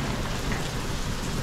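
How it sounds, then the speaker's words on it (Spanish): Heavy rain pours down in a dense, loud, continuous hiss that stays even through the short stretch, with no voices. "está lloviendo bastante fuerte"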